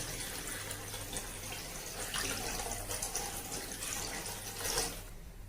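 Water is poured into a pot of Tamil fish curry (meen kuzhambu) that already holds tamarind extract. It makes a steady, continuous splashing stream for several seconds and stops abruptly at the end, with no voices.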